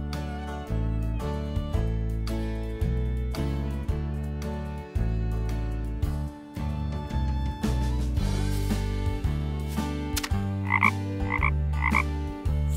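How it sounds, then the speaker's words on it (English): Frog croaking in a dinosaur cartoon for children, a series of deep, resonant, musical croaks in an irregular rhythm, loud and close, with no talking. "Frog."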